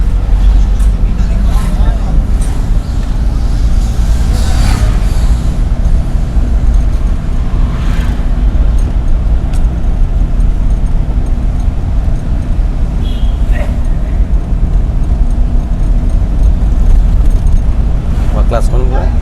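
A driving-school car with a student at the wheel is driven in Sylhet, its engine and road noise forming a steady low rumble that builds gently, while an instructor talks over it much of the time.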